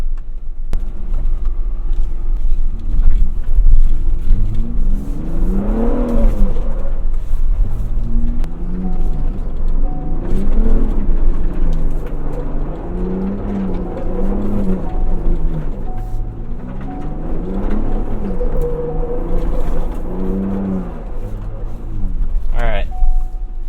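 A 2022 Ford Bronco Raptor in two-wheel-drive sport mode with the rear differential locked and traction control off, its engine droning and revving steadily as it drives and slides, rising and falling in pitch throughout, with a person talking over it.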